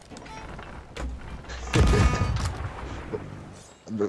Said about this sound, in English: give it a two cannon salute